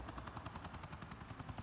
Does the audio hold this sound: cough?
no